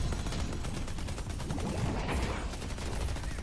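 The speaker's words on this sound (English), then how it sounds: "The turrets will kill him. Oh, the turrets missed!" Turret gunfire in the video game Deadlock, a dense, continuous rattle of rapid shots that stays loud and steady from start to finish.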